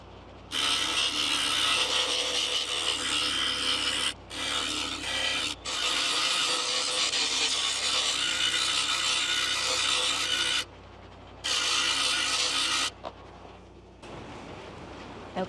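A homemade lapidary tool polishes a silver pipe with a steady, loud grinding rasp in long bursts, broken by a few short pauses and a brief quiet spell near the end.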